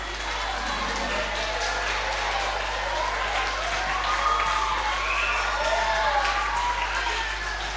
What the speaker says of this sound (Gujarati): ટીમ ગૌરવ માટે તાળીઓ થઈ જાય